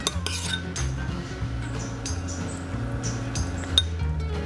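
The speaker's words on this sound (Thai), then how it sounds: "แล้วเราก็มาคลุกเนยกันเลยค่ะ" Lobster is tossed in butter in a bowl, giving continuous scraping, clinking and knocking of utensils against a dish, with a sharper clink near the end.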